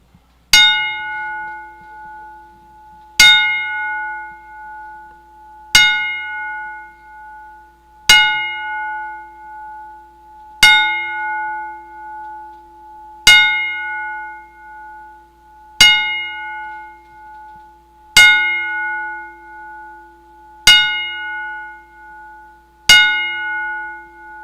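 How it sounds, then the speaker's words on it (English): Ten evenly spaced strikes of a ring bell at a wrestling event, each a bright, ringing clang that decays before the next, loud and clear with no talk over them. "we're going to give a 10-bell salute to Jay Briscoe, Jay McHugh, real quick."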